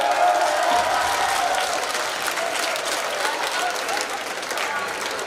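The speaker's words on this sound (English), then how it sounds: "one more cheer for Max Fish and their romantic date." A crowd at an assembly applauding steadily with scattered cheers, a continuous wash of clapping that fades slightly toward the end.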